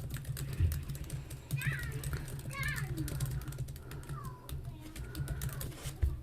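Typing on a computer keyboard, a run of quick, light key clicks up close with faint speech in the background.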